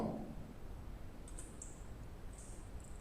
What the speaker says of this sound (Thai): กด Ctrl H ที่คีย์บอร์ด